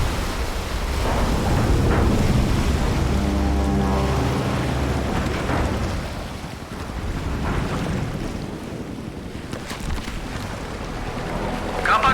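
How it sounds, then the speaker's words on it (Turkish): A submarine surfacing from the ocean in Call of Duty Modern Warfare 3 gives off a loud, continuous rush of churning water and wind-like roar that swells and ebbs, with a low rumble underneath and faint voices in places. "Denizaltı yüzeye çıkıyor."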